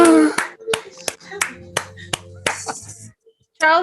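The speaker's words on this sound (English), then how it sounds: "I'd like to get a round of applause for the recreacionista in training, Charles" A small audience at a salon gathering gives a round of scattered, sharp handclaps, about eight distinct claps spread over a few seconds, mixed with people talking.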